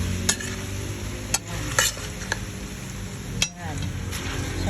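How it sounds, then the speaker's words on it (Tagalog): Chicken sizzles steadily in a pan for adobo while a utensil scrapes and clinks against the metal every second or so. "Pag nag-sizzling na siya, marinig nyo na yung sizzling niya"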